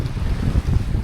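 Wind rushes across the microphone aboard a sailboat heeling under full sail with no engine running, a steady low roar with faint water wash against the hull.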